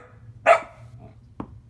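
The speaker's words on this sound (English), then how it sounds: "It's not nice to bark at the kitty." A dog barks at a cat, giving one sharp nearby bark followed by a shorter, softer yip a moment later, with quiet background between.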